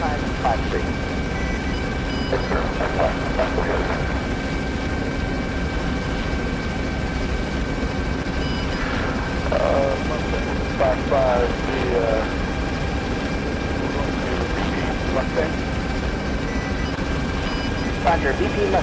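A UH-60 helicopter in the Arma 3 combat simulation drones steadily for the whole stretch, a constant rotor and engine hum with radio-style voices talking over it at intervals.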